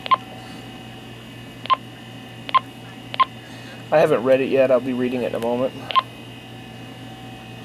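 Short electronic DTMF tone beeps from a Standard HX482UT radio sound one at a time at uneven intervals, with a stretch of nearby speech between them, over a faint steady hum.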